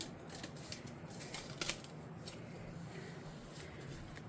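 Scissors cutting through tough craft material: soft, rapid snipping and crisp rustling close by, with a few sharper crunches in the middle, fairly quiet and without talk.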